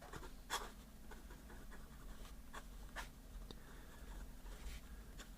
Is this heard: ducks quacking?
no